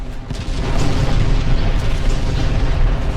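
Torpedo hits in the naval battle game Ultimate Admiral: Dreadnoughts, a sustained booming rumble of explosions lasting several seconds at full loudness, with no talk over it.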